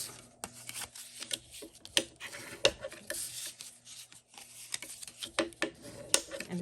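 A bone folder scores and burnishes paper pockets, heard as close, faint scratchy rubbing strokes and light taps in an irregular rhythm, each stroke brief and papery against a quiet background with a faint hum.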